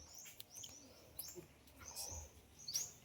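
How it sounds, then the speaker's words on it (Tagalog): Birds chirp and tweet outdoors in short, high, scattered calls, faint against a quiet background with a soft coo-like note. "gusto ko lang marinig yung huni ng mga ibon"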